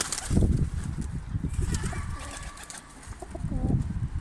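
Pigeons cooing nearby in repeated low throaty calls, with rustling and faint background noise throughout.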